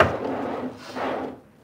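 Wooden drawers in a tiny home slide open and shut, giving soft knocking and rubbing wood sounds in two close bursts, fairly quiet and with no talk.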